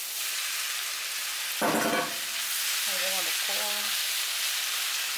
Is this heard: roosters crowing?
no